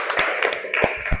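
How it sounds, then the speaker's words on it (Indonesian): A small audience claps at the end of an Internet of Things university lecture, producing a few sparse, close claps in quick succession. "Kita berikan aplaus dengan semangat kalian."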